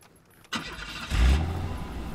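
A car engine with a manual stick shift cranks and catches, then settles into a low, close rumble.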